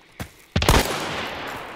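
Two sharp gunshots from the Hunt: Showdown first-person shooter, a short crack followed by a louder blast that rings out into a long reverberant tail.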